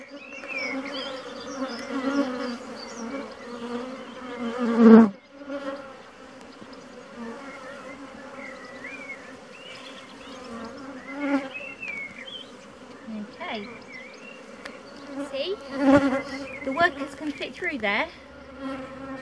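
Honey bees buzz and drone in a dense, continuous swarm close around an open hive during a varroa check, with a sharp knock near the start and some handling noise later.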